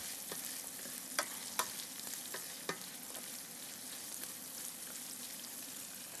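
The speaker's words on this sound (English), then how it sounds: "I'm going to add the yellow squash. Stir that a bit." Yellow squash sizzles steadily in a hot pan while being stirred, with a few sharp clicks of the utensil against the pan over the continuous frying hiss.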